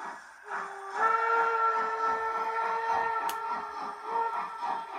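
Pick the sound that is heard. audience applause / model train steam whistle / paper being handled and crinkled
model train steam whistle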